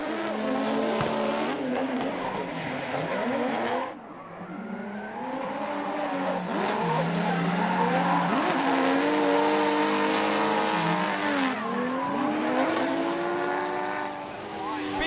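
Race cars on a track during a Trans-Tasman competition run in 2015, engines droning and revving loudly with rising and falling pitch throughout, plus a brief dip midway, under a commentator talking.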